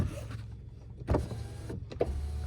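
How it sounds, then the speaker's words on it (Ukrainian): Power windows of a Volkswagen Golf 5 with a 1.6 MPI engine, a low motor whine running steadily for a couple of seconds with soft clunks as the glass moves, heard close inside the car. "Так, склопідйомники працюють."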